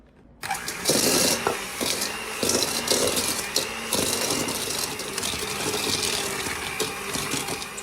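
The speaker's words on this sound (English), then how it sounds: "we're just going to cream up our butter and sugar together with the hand mixer" A hand mixer whirs steadily through butter and sugar in a bowl, starting abruptly and then holding a constant buzzing drone with slight scraping fluctuations, close and fairly loud, with no voices.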